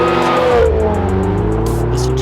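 A supercharged Subaru BRZ engine accelerates hard close by, its note rising steadily after a brief shift-like dip, loud and continuous with no talking.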